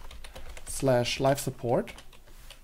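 A computer keyboard is typed on in quick bursts of light, clicky keystrokes while someone speaks over them at close range.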